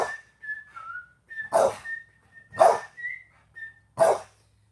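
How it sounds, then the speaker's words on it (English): An excited pet dog gives a run of three or four sharp, close barks, with a steady whistle-like tone sounding between them in an indoor room. "Sorry, my dog's excited too."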